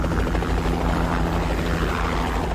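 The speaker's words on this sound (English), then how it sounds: "Helicopter." A helicopter from the 1988 War of the Worlds pilot thunders steadily overhead, its loud, constant rotor chop and engine roar filling the short stretch with no one speaking.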